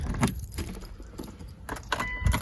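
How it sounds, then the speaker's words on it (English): Car keys of a 2003 Mitsubishi Eclipse GTS jingle and clink in short bursts, close up, with some rustling and a faint low rumble underneath. "you can hear the jingle, good sign."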